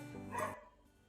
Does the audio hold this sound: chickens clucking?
no